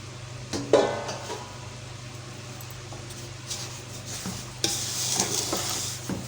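Semolina tips into a hot pan and is stirred for panjiri, giving a soft scraping, sizzling texture with a couple of louder clatters of spoon against metal, no voices present.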